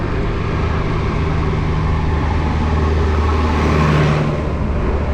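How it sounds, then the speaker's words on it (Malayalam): A JCB excavator climbs a village road near a construction site, its engine a steady, loud mid-range rumble that builds slightly toward the end, heard from inside a small car with no talk. "ഒരു JCB കയറി വരുന്ന കാഴ്ച കണ്ടോ."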